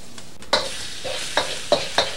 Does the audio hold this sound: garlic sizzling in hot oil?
yes